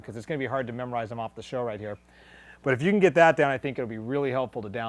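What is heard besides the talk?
No everyday noises stand out.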